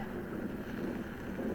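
Strong wind buffets the microphone on the Pacific coast of Oregon on a rainy, very cold day, producing a steady, rough, broadband roar throughout the brief moment with no voices.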